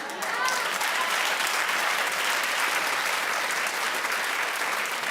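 A studio audience breaks into steady, even applause that holds at a constant level for several seconds, with a brief voice at the very start.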